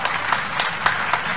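A crowd at a political rally in Amarkantak applauds, a dense, steady wash of many hands clapping throughout, with faint rhythmic accents.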